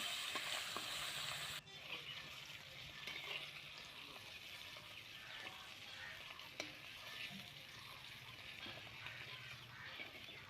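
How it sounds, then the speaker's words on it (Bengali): Pond bata fish fry in hot oil in a wok, giving a steady, fairly faint sizzle that runs the whole time, slightly louder at the very start. "দুপিট উল্টে একটু হালকা করে লাল লাল করে ভেজে নিচ্ছি বাটা মাছগুলোকে"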